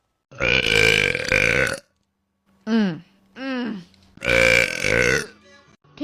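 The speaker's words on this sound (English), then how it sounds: "I love burping." Loud, long burps from a woman, two drawn-out belches at the start and end with shorter croaking burps between, heard up close with no other sound.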